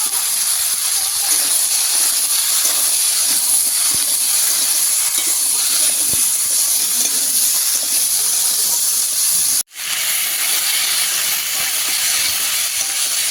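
Malabar spinach stems and mixed vegetables, seasoned with salt and turmeric, frying in oil in a pan, giving a loud, steady hiss of sizzling that runs unbroken apart from one momentary cut.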